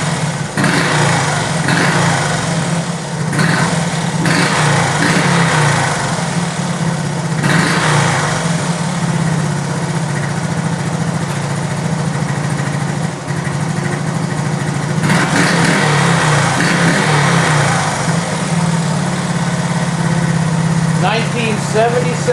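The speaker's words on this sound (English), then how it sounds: "So I can start it up right now and let it idle. Do a quick couple of revs." A 1977 Honda ATC 90 with a still-warm engine runs at a steady, loud, buzzy idle, lifting briefly in a few quick revs, with a voice faintly heard over it at moments.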